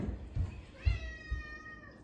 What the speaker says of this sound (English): I swear this cat thinks he's the Shah or something.